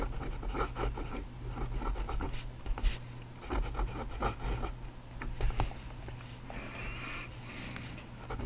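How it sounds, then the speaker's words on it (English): A fountain pen fitted with a Jinhao No 8 nib scratches across paper in short strokes and pauses, faint and close with a steady low hum behind it. "I think it's time to ink this up and put nib to paper."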